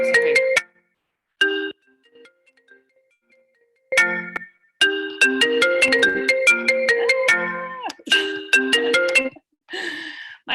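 A phone ringtone plays through a computer as a loud, repeating melodic electronic tune in several bursts separated by short pauses, alone and prominent.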